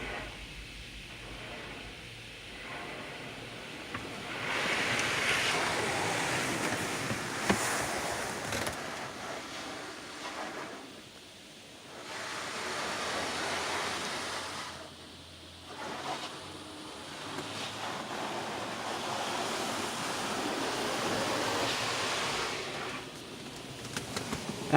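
PDQ LaserWash 360 touchless car wash at a BP gas station spraying a second coat of platinum wash, heard from inside the car as loud, broad hissing spray that swells and fades in waves.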